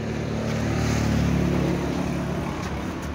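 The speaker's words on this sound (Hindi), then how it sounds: "पावर ट्रैक है भाई ट्रैक्टर" A Powertrac 440 tractor with a water-cooled engine runs at a steady idle, a continuous loud low diesel drone and rattle heard close up without a break.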